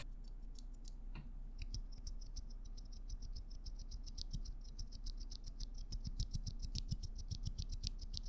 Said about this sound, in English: It's also a very scratchy switch, which you can see from this clip.